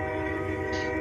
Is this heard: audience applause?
no